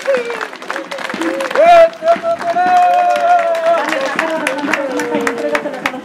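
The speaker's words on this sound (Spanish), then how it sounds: "Apláudanles muy fuerte, por favor." Applause and cheering from a crowd at a Mixquiahuala flag festival, a steady dense patter of clapping lasting several seconds, mixed with voices, shouts and a sustained sung or shouted tone rising over the noise.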